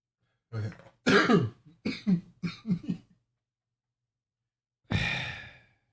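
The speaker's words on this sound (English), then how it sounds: "you doing all that damn coughing in the mic" A few sharp coughs and throat-clearing bursts close to the mic, followed after a pause by a long breathy exhale.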